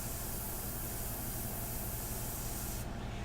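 An airbrush sprays India ink onto a portrait, giving a steady close hiss of air that runs unbroken for a few seconds and then thins slightly at the end, with no talking.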